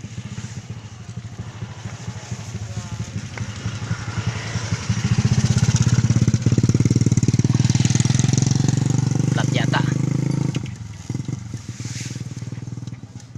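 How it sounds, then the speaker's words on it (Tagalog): A motorcycle engine runs nearby in Pangpang, Batangas, with a rattling idle that swells into a loud, sustained roar for several seconds and then drops back. "Natunog yung makina ko pa rin ah."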